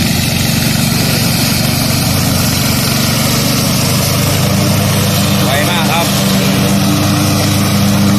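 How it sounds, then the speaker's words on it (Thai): A 17-horsepower ride-on lawn mower cuts grass, its loud, continuous engine drone rumbling throughout while someone talks over it. "เราก็จะทำการตัดหญ้าให้เสร็จ"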